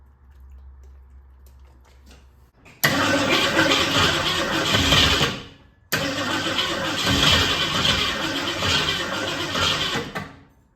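A 1966 Ford Mustang engine that sat for 16 years cranks loudly and roughly for a few seconds, stops briefly, then cranks again and keeps turning over, close to the microphone.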